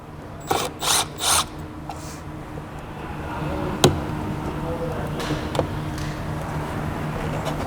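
Screws come out of the dash hood on an iKon boat: three short power-driver whirs close together near the start, then faint clicks and one sharp tap over a quiet background.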